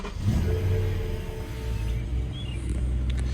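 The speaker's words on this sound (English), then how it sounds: "it never gets old to start that up" A BMW E90 M3 engine fires up and settles into a steady, close, loud rumbling idle with no talking, the car having been run a short while earlier.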